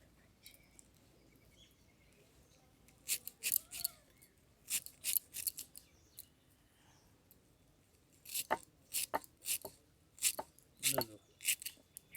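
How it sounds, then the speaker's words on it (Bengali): Fresh coriander leaves are cut very finely in a home kitchen. Quick crisp cutting sounds come close and distinct in two clusters, with quiet gaps between them. "তা ধনে পাতাগুলোকে আমি কেটে নিচ্ছি।"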